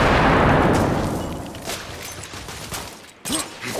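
A grenade explodes in the Victorian-era shooter The Order: 1886, a big close blast with a long rumbling decay that fades into scattered gunfire and battle noise.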